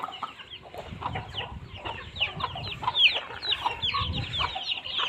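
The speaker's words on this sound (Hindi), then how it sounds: "ये मुर्गी मेरे से डर रही है, ये चूज़े देखे माशाल्लाह।" Hens and small chicks cluck and peep continuously on an Aseel chicken farm in Pakistan, a busy mix of soft clucks and high chirps at moderate distance with no talking.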